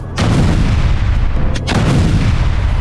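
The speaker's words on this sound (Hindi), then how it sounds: "गाजा में सुरंगों को धमाके से उड़ाया जा रहा है" Explosions blowing up Hamas tunnels in Gaza give a loud, close, sustained roaring blast with a brief dip and a second surge midway, and no voices.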